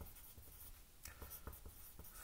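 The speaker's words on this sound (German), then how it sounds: "Also ich schreibe auf" A pen scratches on paper in short strokes, a quiet close rhythm of light scrapes and taps, faint and without voices.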